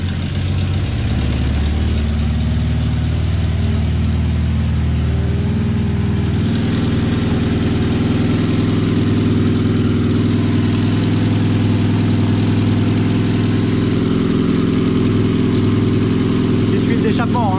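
Engine of a Lada VAZ 2102 estate car idling in neutral, a loud, steady low rumble that holds for the whole stretch and settles into a smoother, firmer tone partway through.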